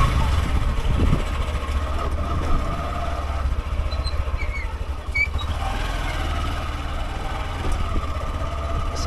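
A car engine idles with a low steady rumble and faint vibration, heard close up as the vehicle waits in Panvel before setting off on the highway toward Kankavli early in the morning.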